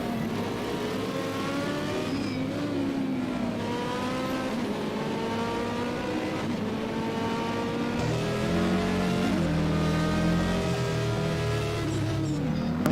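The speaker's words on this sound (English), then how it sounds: "Makes a pretty fantastic sound as well, the Opel Kadett." An Opel Kadett hill climb race car with a high-revving 4-cylinder engine screams loudly and close at the Glasbachrennen European Hill Climb Championship round, its revs repeatedly rising and dropping through gear changes, with no talk over it.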